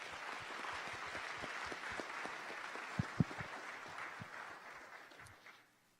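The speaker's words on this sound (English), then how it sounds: "Let's give this small and dedicated team another round of applause." An audience at a fintech demo day applauds in sustained, moderately distant clapping with a few sharper claps, fading out toward the end.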